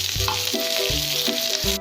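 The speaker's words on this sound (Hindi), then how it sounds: "और फिर अब मैं इसमें अपने चॉप करे हुए अनियन और कैप्सिकम डाल दूँगी और इसे थोड़ी देर के लिए फ्राई कर लूँगी।" Chopped onion and capsicum frying in a kadai give a bright, steady sizzle, heard briefly beneath a stepped melodic tone pattern.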